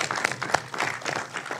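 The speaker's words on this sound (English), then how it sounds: "the loudest applause for Daisy" A brief burst of audience applause for Daisy, a man's wife from Kansas seated beside him, at a political education panel: quick, scattered claps from a small crowd lasting under two seconds.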